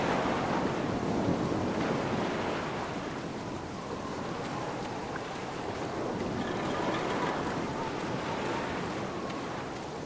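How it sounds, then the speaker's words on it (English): Ocean waves crash and roar continuously against the base of a cliff in the game Black Mirror, a steady, full wash of surf with wind, heard from above without any pause. "It's at least 50 feet down, given the reverberation of the waves."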